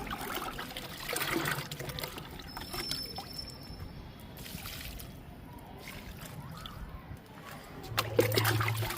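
Homemade liquid fertilizer is poured onto marigold plants in a garden, making soft intermittent trickling and splashing at a modest level, with a faint voice at moments.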